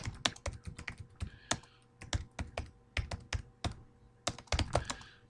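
Fingers tap quickly on a computer keyboard at close range, an irregular run of crisp clicks with brief pauses between bursts, and no one talks.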